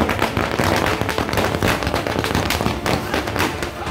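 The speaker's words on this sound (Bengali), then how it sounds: "ফাটল আতশবাজি" Firecrackers burst in a dense, continuous crackling barrage at an outdoor by-election victory celebration in Raiganj, loud and close throughout, with crowd voices mixed underneath.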